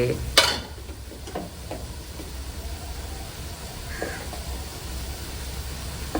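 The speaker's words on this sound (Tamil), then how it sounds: "அந்த ஆவிலே அப்படியே அந்த தண்ணியோட சேர்த்து அப்படியே வதங்கிடும்" Tomatoes sautéed and stirred in a pan for spicy goat head curry, a soft steady sizzle with a few scraping stirs, faint and close.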